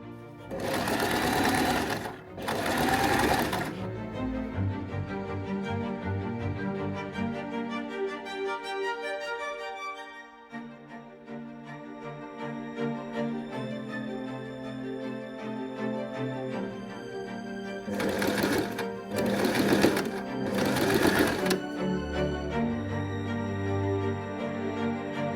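A sewing machine stitches the sleeve seams of a Regency-style jacket in loud rapid bursts, two near the start and several more around the end, with a steady tonal hum filling the pauses between runs.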